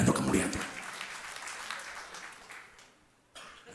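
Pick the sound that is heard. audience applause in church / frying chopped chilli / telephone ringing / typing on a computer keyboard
audience applause in church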